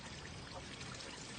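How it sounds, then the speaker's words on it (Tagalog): Spring water pours and splashes steadily from a natural spring in the middle of Discovery Bay, Hong Kong, a close, continuous rushing flow with no talk. "Nandito yung bukal."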